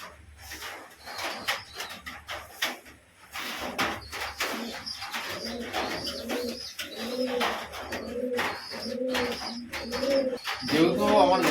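Pigeons cooing indoors after soaking in the rain, repeated low rolling coos close by, with chirps, rustling and a faint voice in the background.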